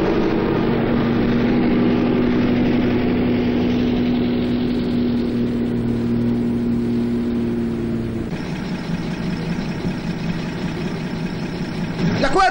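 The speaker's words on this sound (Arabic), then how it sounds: "طفي لها الموتور" A vehicle engine idles steadily with a low, even rumble and faint whine, then the tone shifts partway through as the running changes, continuing close and fairly loud.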